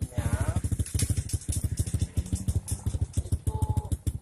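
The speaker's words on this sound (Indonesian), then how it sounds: "perlu Anda dengarkan yang namanya suara knalpot" A carbureted underbone motorcycle idling with a misadjusted carburetor air setting, its exhaust putting out rapid, uneven pulsing thumps close by with a slightly rough, wavering rhythm. No talk over it.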